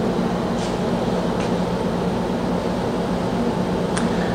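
A shop air conditioner runs on high speed, giving a steady, loud broadband whoosh with a low hum throughout, joined by a few faint brief clicks.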